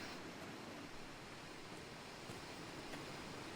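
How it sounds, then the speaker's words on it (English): Wind and waves on a beach in the game Dear Esther, a steady soft wash of broadband noise with faint surf texture, continuous and fairly quiet throughout. "they've really captured the wind and the sound of the water lapsing on the waves"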